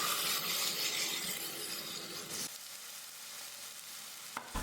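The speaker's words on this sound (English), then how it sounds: "Fry it for a few seconds." Okra frying in a pan with a prepared spice paste, a steady loud sizzle for about two and a half seconds that then drops to a quieter simmering crackle, with a brief clink near the end.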